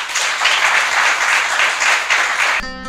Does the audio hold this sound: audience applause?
yes